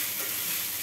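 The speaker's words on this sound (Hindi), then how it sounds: "हिला लीजिए।" Sabudana khichdi with potatoes and peanuts sizzles in a frying pan while being stirred, a dense, even frying hiss heard up close for under a second.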